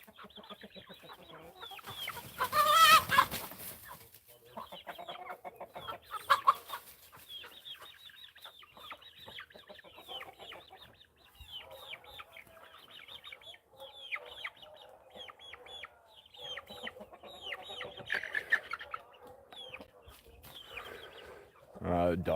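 Chickens cluck and murmur steadily at low volume for a long stretch, with a couple of louder bursts near the start and no one talking.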